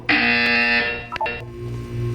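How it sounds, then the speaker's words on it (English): In a Portal 2 test chamber, a loud electronic buzzer sounds for nearly a second, followed by brief clicks and soft tonal blips over a low background hum. "When you hear the buzzer, look down at the floor."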